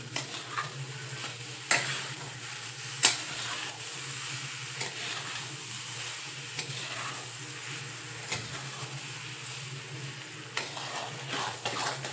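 A spoon stirs semolina, cardamom powder and sugar together in a pan for sheera. Soft, continuous scraping carries under a faint sizzle, and a few sharper clinks of utensil against metal stand out.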